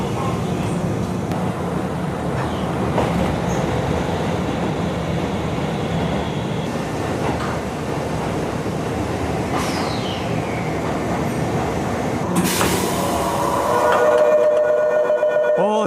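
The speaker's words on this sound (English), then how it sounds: "so I'm gonna get on the train." A train on Japan's shortest railway rumbles steadily with a low, continuous drone, brief metallic squeals and a sharp burst near the end, with no talking over it.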